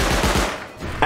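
Automatic Peacekeeper turret in the survival game Rust fires rapid bursts, several quick shots followed by a short loud blast near the end, close and punchy with no talk over it.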